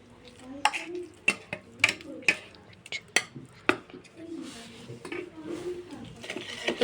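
Carrot being stirred into cake batter in a bowl, with a run of sharp utensil clinks and scrapes against the bowl amid soft mixing, some low voice murmur underneath.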